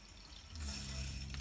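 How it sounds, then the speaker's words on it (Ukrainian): Water starts to flow from the opened supply tap of a reverse osmosis filter, a faint hiss swelling midway into a steady close trickle. "Ось я відкриваю зараз кран оцей подачі води і відсюди побіжить водичка."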